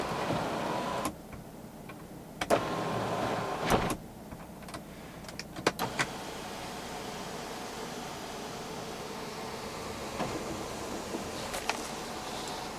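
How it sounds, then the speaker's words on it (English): The electric sunroof of a 2018 BMW X5 xDrive40e M Sport tilts open to vent with a faint motor hum inside the cabin, broken by a few sharp clicks of the button and mechanism. "you can even open up the sunroof as a vent"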